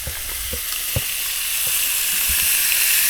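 Bacon fries in a pan at a camp breakfast with a steady, dense hiss that rises slightly. Scattered soft low knocks of handling sound under it, and nobody speaks.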